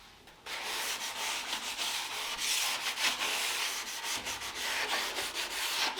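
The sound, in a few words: sanding a radiator with a sanding pad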